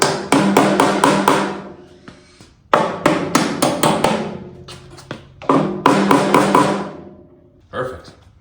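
A hammer taps brake line clips into the chassis of a 1964 Volkswagen Beetle, sharp metallic strikes in quick bursts of four to six blows separated by short pauses, close and loud with no talk.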